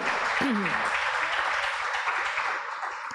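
Church congregation applauding during a Tuesday worship service, a steady broad clapping wash that holds level and eases slightly toward the end, with a brief voice or tone rising through it early on.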